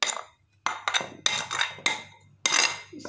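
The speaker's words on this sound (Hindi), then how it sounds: "इसको अच्छी तरह मिक्स करें।" Chana chaat being stirred together with finely chopped purple onion, tomato and black salt in a bowl, giving a run of close, irregular clinks and scrapes of a spoon against the dish with short pauses between strokes.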